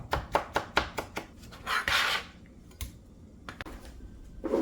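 A knife slicing tomatoes into strips on a board, a rapid run of crisp chopping taps followed by a rough scraping sweep and a few more scattered cuts, close and clear with no speech.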